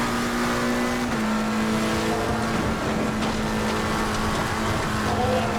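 Race cars including an Audi, a Lamborghini and a Porsche in Assetto Corsa Competizione at Spa, loud continuous engine roar with revving and gear changes, close and sustained throughout with no talk.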